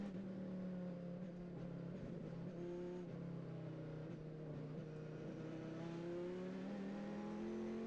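Dodge Viper GT race car circuit racing in the 2004 French GT championship, its engine droning steadily and close with a rising pitch as it accelerates, a continuous loud roar throughout.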